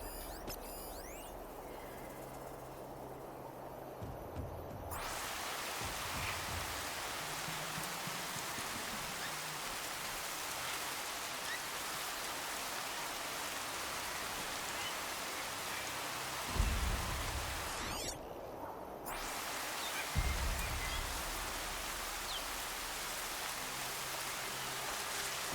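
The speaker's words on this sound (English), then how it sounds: "More rain. My boots will get damp." Steady in-game rain falls as a broad hiss across a Horizon Zero Dawn Remastered scene, cutting out briefly twice before resuming, with a few low thumps and rumbles underneath and no voices.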